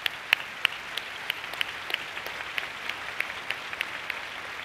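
An audience applauding Senna's mother, continuous clapping from a crowd with a few sharper nearby claps standing out, steady and moderately loud.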